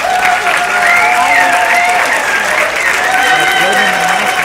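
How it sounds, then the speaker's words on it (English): A crowd gives loud, sustained applause for speaker Fred Hampton Jr. at a public event, dense clapping mixed with cheers and whoops throughout. "Give him a big round of applause."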